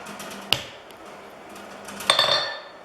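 A blacksmith's hammer strikes hot steel held half on, half off the edge of the anvil to draw it out, two sharp metallic ringing blows, close and loud, with quieter handling noise between.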